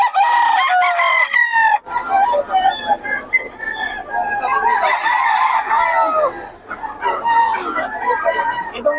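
A National banded gamecock rooster, a sweater-hatch mix, crows loudly and close in repeated long calls, with other roosters crowing and clucking around it.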